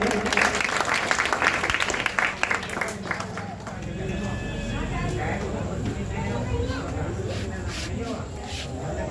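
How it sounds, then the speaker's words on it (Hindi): A crowd at an outdoor protest in Modinagar claps for the committee chairman, a lawyer, in a short dense burst that fades into murmuring crowd noise and background chatter. "उनके लिए एक बार तालियां जोर से"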